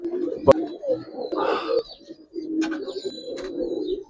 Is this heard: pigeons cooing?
yes